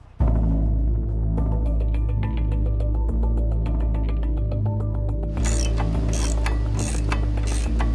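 A Pitbull light remote weapon station is installed on top of an unmanned ground vehicle, with loud, steady mechanical whirring and rapid ratcheting clicks over a deep hum, growing brighter and busier toward the end.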